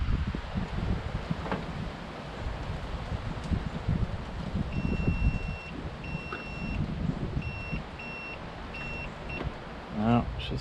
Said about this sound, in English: Wind just picked up, my goodness.